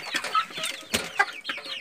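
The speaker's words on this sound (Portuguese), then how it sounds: "esse galo tá aqui junto com os frangos" A rooster kept in with young chickens on a small farm gives a few soft, close clucks in short irregular bursts, with other fowl noise around it and no talk.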